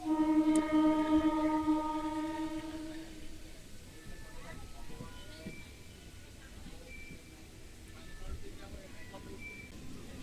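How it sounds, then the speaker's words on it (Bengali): Howrah to Digha local train running, a horn blast at the start fading into steady rumble and clatter of carriages, with voices talking over the noise. "ট্রেন বেশিক্ষণ দাঁড়ালো না ছেড়ে দিল মেচেদা থেকে"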